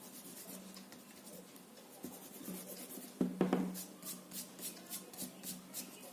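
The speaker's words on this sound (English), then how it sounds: "take my eraser and rub the pencil marks" Pencil marks being rubbed off paper with an eraser, close, light scrubbing in quick repeated back-and-forth strokes that grow more rhythmic toward the end, no talking.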